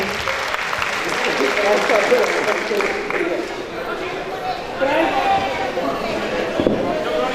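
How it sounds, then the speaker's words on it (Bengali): Loud, sustained applause from an audience at a cultural night, honoring all participants, with chatter and a voice mixed into the clapping throughout. "তাদের সবার জন্য জোরে করতালি।"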